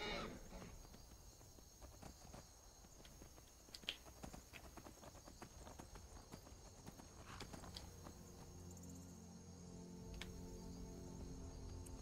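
Horses in the video game Skyrim clopping along at a steady walk, a stream of light hoof clicks over quiet ambient background, fairly faint and continuous.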